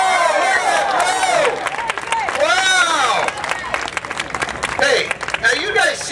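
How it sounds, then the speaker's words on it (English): A crowd cheers and yells loudly at an outdoor dock diving competition while an English Springer Spaniel waits to jump, with voices, whoops and some clapping forming a continuous roar throughout. "let's all cheer for him"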